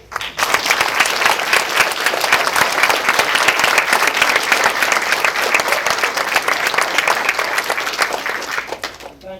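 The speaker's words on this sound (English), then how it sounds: "So we need to applaud you all." Applause from the audience at a school board meeting, a dense sustained clapping that starts abruptly, holds steady and loud for about nine seconds, then cuts off.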